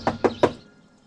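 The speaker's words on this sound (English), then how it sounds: "Knock?" Three quick, evenly spaced knocks on a door in a Star Trek fan production, close and sharp, each a hollow rap fading into a short quiet tail.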